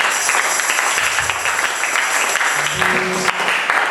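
A church congregation at a French-language sermon claps for the Lord, a sustained roll of applause with a faint tonal drone and a few voices rising near the end.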